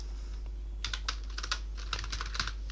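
Quiet keyboard typing during Excel VBA billing-software work comes in short, uneven bursts of soft clicks, close to the microphone over a low steady hum, with no talking.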